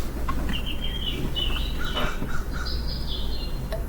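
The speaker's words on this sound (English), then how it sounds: "I think there's a crow outside, so you might hear it in the background." A crow calls outside, heard at a distance as several short, harsh caws spread across a few seconds over a steady low background hum, with no talking.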